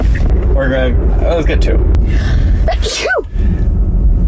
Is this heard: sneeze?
yes